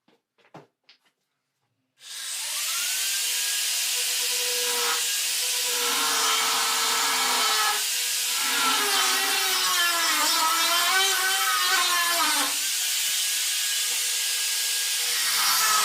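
A loud power tool cuts a metal sheet for a fireplace, starting abruptly after a few faint knocks and whining steadily at close range, its pitch wavering as the blade works through the cut.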